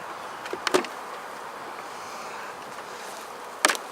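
Honeybees buzz steadily around an open hive infested with hive beetles during an inspection, a continuous close drone broken by a couple of brief knocks.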